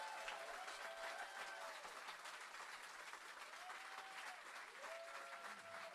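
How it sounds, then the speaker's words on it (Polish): Audience applause breaks out at a live concert, a dense wash of many hands clapping at a moderate distance and holding steady for the whole stretch, without speech over it. "Wielkie brawa."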